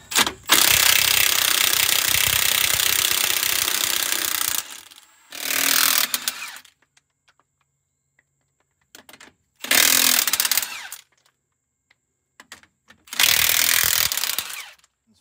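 A power tool on a vintage bus wheel removes a lug nut in loud, harsh bursts: one long run, then three shorter ones separated by quiet pauses.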